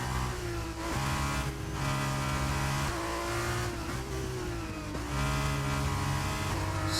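An F2 race car in the F1 22 video game sits on the rev limiter at COTA, its engine a loud, constant high-pitched drone that stutters and cuts briefly every second or two.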